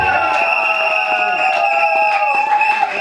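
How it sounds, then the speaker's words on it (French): Guests applaud and cheer at a wedding, and their clapping and crowd noise run under loud, steady music with a sustained tone throughout. "Est-ce que tu peux applaudir?"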